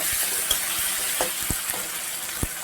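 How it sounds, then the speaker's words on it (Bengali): Chopped onions with salt fry in a pan with a steady close sizzle, a few soft stirring clicks scattered through the hiss, no voices. "পেঁয়াজ কুচি করে রেখেছি তাও দিয়ে দিলাম একেবারে পরিমাণ মতো বা স্বাদ মতো নুন দিয়ে আবারও ভালো করে ভেজে নেব"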